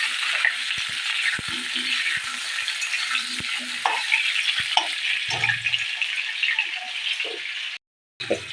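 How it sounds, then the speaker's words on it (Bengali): Potatoes fry in a pan with a continuous close sizzle, punctuated by scattered sharp clicks and scrapes of a utensil stirring, before a brief dropout near the end. "গাইস দেখো আলুটা ভাজার জন্য এখানে বসিয়ে দিলাম।"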